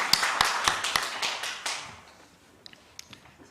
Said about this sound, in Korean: 영광의 박수를 하나님 앞에 올립니다